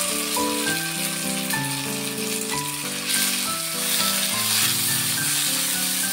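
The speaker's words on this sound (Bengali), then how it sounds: "ফোড়নের মধ্যে ভুঁড়ি এরকম ভাজতে ভাজতে ড্রাই করে নিলেই তৈরি হয়ে যাবে আমার আজকের আয়োজন ভুঁড়ি ভুনা" Cooked beef tripe sizzles and crackles in hot oil with browned onion and dried chili, a steady close frying hiss with small pops and utensil clinks throughout.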